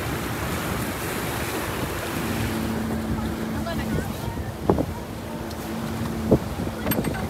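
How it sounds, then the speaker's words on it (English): A small boat tows a larger boat across open water, its engine a steady low drone under wave wash and gusting wind noise on the microphone, with a few brief knocks. "look at the small boat, it's working so hard to pull it"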